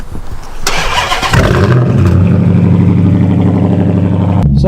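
A Dodge Charger R/T starter cranks briefly, then the big engine with mid-muffler and resonator fires and settles into a loud, steady rumbling idle before cutting off abruptly.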